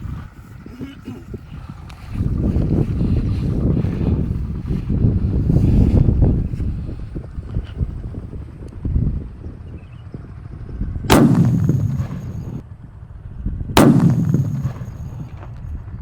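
A large Corsair firecracker hisses and sputters as its fuse burns outdoors in gusty wind, then two loud, close blasts boom a few seconds apart, each fading into a rumbling echo.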